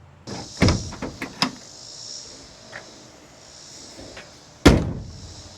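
A car door on a Ford Galaxie under restoration is worked open and shut, giving a cluster of sharp latch clicks and clunks, then a quiet stretch and one loud, close slam near the end.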